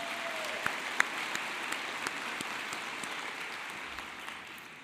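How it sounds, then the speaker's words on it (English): Faint applause from a crowd at a university commencement ceremony, a steady soft patter of many hands clapping with a few sharper claps standing out. "You can applaud that."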